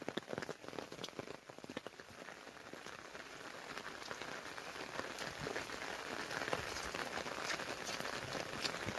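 Steady winter rain falls on farm fields across the whole recording, a dense patter of drops striking surfaces nearby with no voices.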